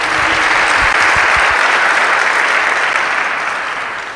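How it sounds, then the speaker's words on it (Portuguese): Church congregation applauding during a worship service, a dense, loud, sustained wash of clapping from a large crowd that continues evenly for several seconds before beginning to taper. "Você quer dar um aplauso ao Senhor por isso? Pode aplaudir"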